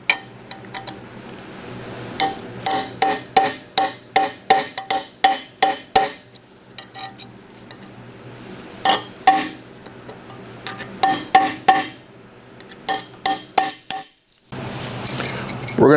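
Steel pin punches and a ball-peen hammer clink and clatter as they are picked up and set down at a bench during a Columbian #206 vise restoration, a quick run of sharp metallic knocks with brief pauses.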